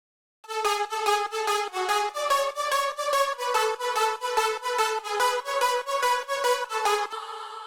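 Clean synth lead carrying the drop melody, with its distortion plugin switched off, starting after a brief silence and playing a steady run of pulsing, evenly chopped notes, loud and unaccompanied, fading into a held note.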